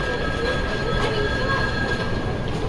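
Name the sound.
metro train moving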